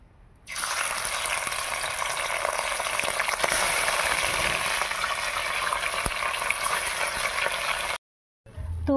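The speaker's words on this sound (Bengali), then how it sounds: "এইভাবে সব মাছগুলো ভেজে নেব।" Parshe fish fry in hot oil in a kadai, giving a loud, dense, continuous sizzle and crackle that starts abruptly and runs steadily, with only a brief break near the end.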